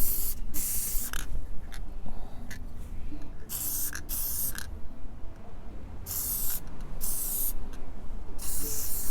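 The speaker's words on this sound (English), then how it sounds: "Got a little spray glue left here" Spray glue hissing from an aerosol can outdoors on a windy day, working on a model cherry blossom tree, in several separate bursts of varying length with rough wind noise between them.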